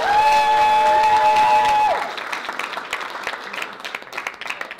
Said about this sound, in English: Give me a round of applause, Mickey